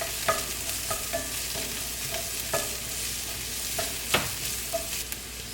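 Minced garlic and celery fry in a pan, giving a steady close sizzle broken by intermittent scrapes and clinks of stirring, with one sharper knock near the end; nobody speaks.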